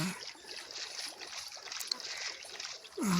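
A boat glides across water in Minecraft, a steady soft wash of splashing and trickling that runs evenly for a few seconds, with a brief louder swell near the end.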